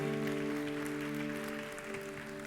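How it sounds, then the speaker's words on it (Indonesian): A church congregation claps continuously during a sermon while sustained organ or keyboard chords hold underneath, the applause fairly even and moderately loud. "Boleh gak kasih tepuk tangan yang paling dahsyat bagi Tuhan kita?"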